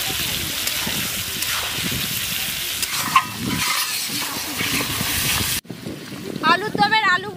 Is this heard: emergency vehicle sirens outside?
no